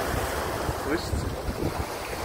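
Sea waves wash steadily at a port, a broad continuous surf roar mixed with wind buffeting the microphone, heard close and fairly loud with no talk over it.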